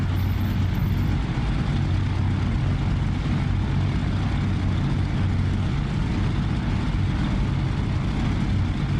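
An F4U Corsair propeller fighter rolling for takeoff in the DCS flight simulator, its piston engine a loud, steady, droning roar that fills the whole stretch without letup, heard alone.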